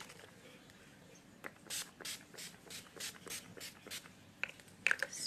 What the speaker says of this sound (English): Spray that all over.